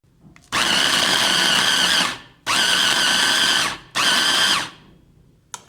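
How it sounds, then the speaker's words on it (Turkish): A food processor whirs loudly in three bursts, blending a lemon, salt and sugar mixture for homemade lemonade, each run lasting one to two seconds with short silent pauses between, close and steady. "Tekrar rondodan geçiyorum."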